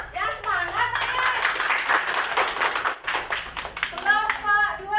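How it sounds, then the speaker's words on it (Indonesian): Classroom of students clapping for a group that just presented, a lively burst of many small hands that fills the middle, with children's and a teacher's voices talking before and after. "tepuk tangan untuk kelompok 1"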